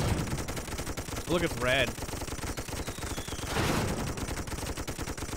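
Steady gunfire from World War I soldiers in the Toy Soldiers HD tower defense game runs as a dense, continuous rattle, while a person briefly talks over it.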